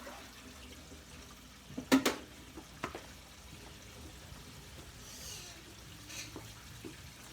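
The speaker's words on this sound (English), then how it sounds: "So you got the water coming out of the sink side with the drain and the water joining that from the garbage disposal." Water drains out of a kitchen sink and a newly replaced Moen garbage disposal under a steady low wash. A few brief gurgles and splashes stand out early, then soft trickling continues.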